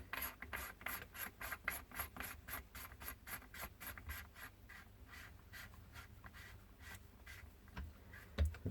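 FX quick fill fitting screwed in by hand, giving a steady series of small rhythmic ratcheting scrapes and clicks at close range, regular at first, then slowing and thinning out toward the end.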